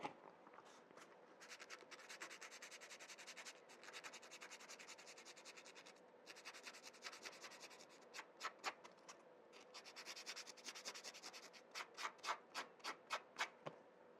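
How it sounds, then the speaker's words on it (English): Repeated scratchy rubbing strokes of a sanding sponge on a workbench, quiet and close, speeding into a quick rhythmic back-and-forth toward the end. "sanding sponge"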